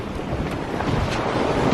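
Sea waves wash and wind roars around a sailboat at sea running on autopilot with leftover swell, a steady, dense, close rushing noise without a break.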